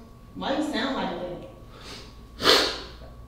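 Close, wet nasal sniffs, a couple of short breathy intakes with a sharper one near the end, over faint room noise.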